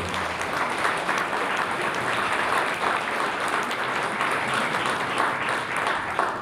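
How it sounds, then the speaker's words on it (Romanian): Sustained audience applause fills a hall during a Christmas carol concert in Dărmănești, a steady dense clapping wash with no break. "Încă o dată, haideți să o aplaudăm pe sora Fabiola."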